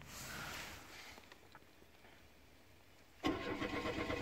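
Oldsmobile Cutlass Ciera cranking and catching after sitting unused for days: a few seconds of quiet starter whir, then the engine fires and settles into a steady, fairly close idle.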